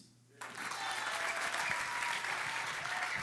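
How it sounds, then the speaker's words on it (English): A college poetry event audience bursts into applause after a student's performance, a dense wash of clapping starting abruptly and holding steady, moderately distant in a hall. "let's give him a big round of applause"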